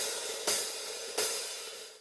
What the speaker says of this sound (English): Here we have our X hi-hat.